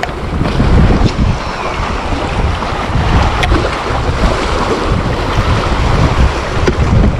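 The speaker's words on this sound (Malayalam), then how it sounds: "നല്ല കാറ്റടിക്കുന്നുണ്ട്." Strong wind roars steadily outdoors by the water, buffeting the microphone with loud, continuous rumbling gusts, with faint waves underneath and no voices.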